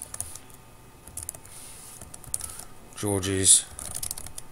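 Computer keyboard typing a description, a brief burst of quick key clicks that starts after a few quiet seconds, close and fairly loud, with a voice speaking a single word.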